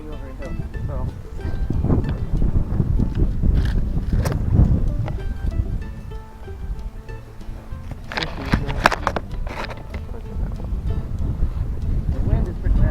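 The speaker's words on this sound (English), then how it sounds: "the wind is pretty bad though." Strong wind gusts buffet the microphone on a golf course, a rough, rumbling roar that swells and fades throughout while a person talks over it.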